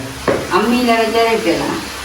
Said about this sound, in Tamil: இது நல்லபடியாக கொதிக்குது